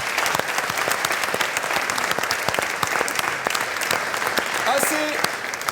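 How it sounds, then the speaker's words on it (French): Audience applause at a French public-speaking event honouring its speakers, a dense, steady round of clapping from a large crowd that fills the whole stretch at an even loudness, with a few sharper individual claps standing out near the end. "Et je vous demanderai, s'il vous plaît, de les applaudir."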